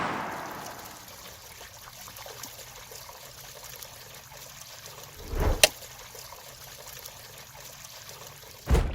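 Water from a DIY garden fountain trickles and pours steadily near the microphone, a continuous soft liquid flow with two brief louder splashes or bumps, no talking.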